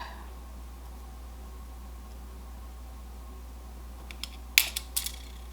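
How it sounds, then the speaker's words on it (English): A few sharp, close metallic snips of pliers cutting wire for jump rings, clustered near the end against a quiet, steady hum. "Turn our pliers so the flat side is on the part that we are keeping, and snip."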